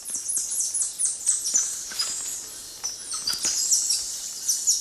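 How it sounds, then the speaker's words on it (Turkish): Rapid high-pitched chirps and squeaky alarm calls of a silky marmoset repeat in quick bursts, fairly close and insistent, with no talking. "Komşuların istila sesini duyan abi alarm veriyor."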